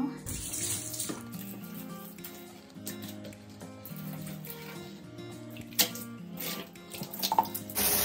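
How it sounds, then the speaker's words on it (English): Warm water runs steadily from a tap into a bathtub being cleaned, a continuous close splashing stream with no talk over it. "I'll just use warm water"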